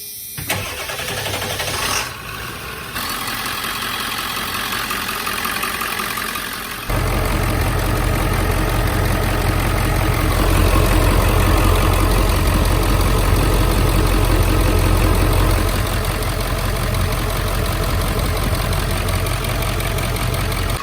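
A 1999 Ford E350 van's 7.3 liter Powerstroke diesel engine cranks and starts after a fuel filter change, then settles into a loud, steady clattering idle close by.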